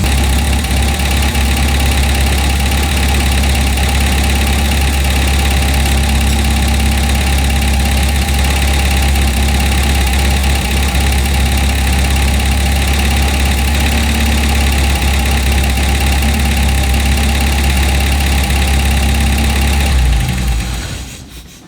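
A 1955 Austin Healey engine idles steadily as it warms up, a continuous close, loud rumble with a faint ticking, then cuts off near the end.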